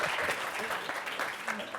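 Applause from a conference panel audience fills the room as a steady, dense patter of clapping hands, with voices faintly mixed in.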